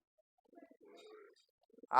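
Soft pigeon coos, low and murmuring, in quiet surroundings, ending in a louder burst of cooing.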